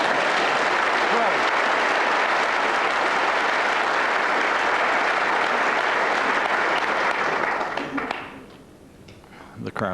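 A snooker crowd at the 1999 World Championship bursts into loud, sustained applause after Jimmy White's shot, a thick steady wall of clapping that fades out near the end as a commentator speaks.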